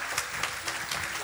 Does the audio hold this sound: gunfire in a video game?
no